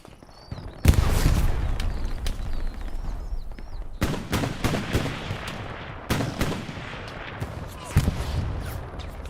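Gunfire in the World War II shooter Hell Let Loose: a dense mix of near and distant rifle shots and automatic bursts crackles continuously, with a few sharp loud cracks standing out, while a commentator talks over it.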